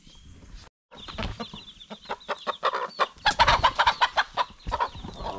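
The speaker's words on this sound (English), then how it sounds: "mama chicken doesn't want to talk with the big man. It's protecting her kids there." A mother hen guarding her chicks on a mountain in Paraguay clucks in rapid, agitated bursts, loud and close, the calls growing denser and louder toward the end.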